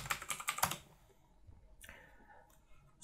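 A burst of quick keystrokes on a computer keyboard as a password is typed, close clattering clicks for under a second, then quiet with a couple of faint later clicks.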